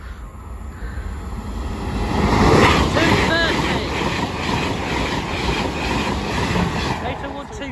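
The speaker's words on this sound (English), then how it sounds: "And we've got an train." A train bound for London King's Cross rumbles past at Botany Bay level crossing, wheels clattering on the rails with a steady roar that swells and then holds, with faint squeals mixed in.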